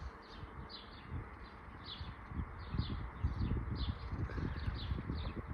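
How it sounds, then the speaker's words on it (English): Birds call repeatedly on Westray island in Orkney, a series of short chirps at a steady pace over wind and rustling outdoor background, moderately close. "So I'm sure you can hear the birds"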